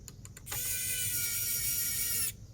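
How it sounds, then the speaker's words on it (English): A screw is driven into an HP Pavilion G6 laptop, a few quick clicks followed by a steady high whirring hum that runs for nearly two seconds and then stops, close and fairly quiet. "we want to take our screwdriver and we want to put our screw in"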